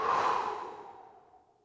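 A long, audible breath is released through the mouth during a breathwork exercise, a breathy sigh that starts strong and gradually fades to silence, alone and close.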